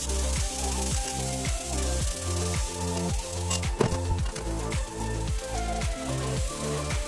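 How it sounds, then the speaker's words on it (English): Shrimp sizzle in garlic butter with a soft crackle, set against a loud, steady, rhythmic mechanical throb that pulses repeatedly underneath. No one speaks. "Get the garlic butter on first. The shrimp goes on."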